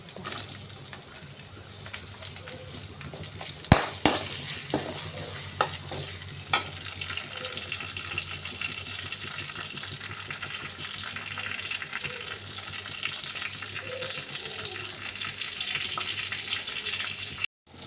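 Tomatoes fry in a pan with a continuous close sizzle, while a spoon stirring them scrapes and clinks sharply against the pan a few times early on.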